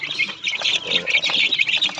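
Native chickens cluck and peep in a busy, overlapping chatter close by, with short squawky calls repeating throughout.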